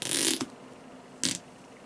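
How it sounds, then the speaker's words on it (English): Straps on a Polish MP-5 gas mask are pulled and tightened, giving two short, close ratcheting rasps separated by about a second of quiet. "So let's get the mask on and tightened."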